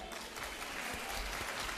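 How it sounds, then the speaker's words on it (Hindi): A crowd claps loudly and continuously, dense applause filling the whole moment without a break. "जोरदार तालियां।"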